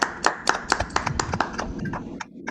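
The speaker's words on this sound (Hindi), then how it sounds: "आपकी जोरदार तालियों के साथ" An audience welcomes a speaker with applause, a run of sharp, fairly close claps in uneven rhythm that thins out toward the end, no clear talking.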